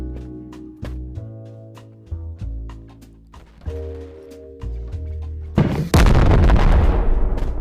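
RPG shots and explosions in the video game Animal Company: a series of sharp booming hits with ringing tails, ending in a loud, sustained blast of crackling explosion noise.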